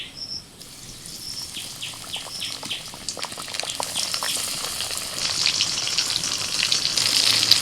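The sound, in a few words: lote fish pieces frying in oil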